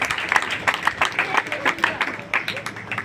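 A church congregation claps along in a loud, rhythmic series of hand claps with crowd noise and voices mixed in.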